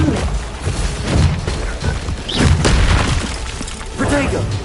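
Blasting-spell explosions in Hogwarts Legacy: several heavy booms with shattering bursts break out in quick succession, loud and close, mixed with battle effects and voices speaking.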